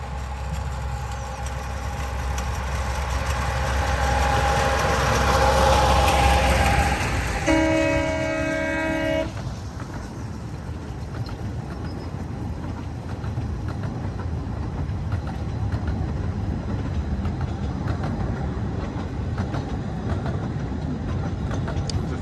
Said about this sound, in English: So Lady Wakefield brings in the first train from Ravenglass.